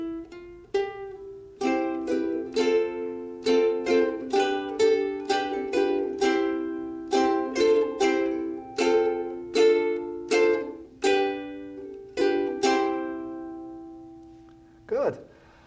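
Ukulele playing the old English folk tune Country Gardens: a lively, steady run of bright plucked notes and strums over about fifteen seconds, close and alone, ending with a final strum.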